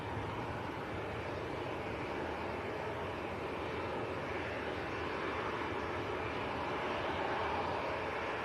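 A TUI airliner bound for Faro takes off from Manchester Airport, a faint, distant, even jet rumble that runs steadily from start to end with no one talking.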